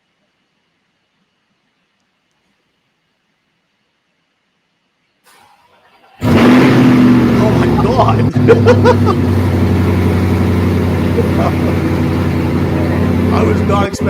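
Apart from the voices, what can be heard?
loud car cold start with Paragon exhaust and headers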